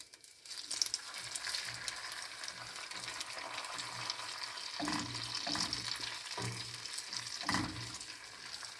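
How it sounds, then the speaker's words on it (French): Sugar and butter cooking into caramel in a pan for a tarte tatin, giving a steady soft sizzle with occasional louder stirring swishes and scrapes. No one speaks. "on fait cuire le sucre avec le beurre jusqu'à obtenir une texture caramel."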